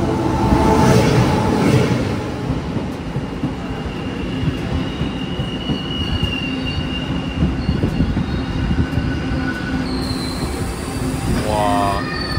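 A passenger train pulls into Tianzhong station in Taiwan with a heavy rolling rumble and high squealing wheels. The noise is loud and continuous, with a rising squeak near the end.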